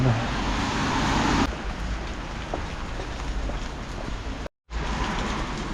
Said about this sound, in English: This is torrential rain, day after day of rain.